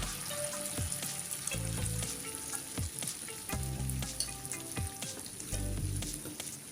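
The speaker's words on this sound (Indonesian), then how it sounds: "Sekarang goreng pemirsa." Shrimp and corn fritter batter frying in a pan, a steady loud sizzle with repeated stirring and scraping strokes and periodic bursts of bubbling, close up with no talk.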